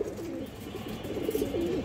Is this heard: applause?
no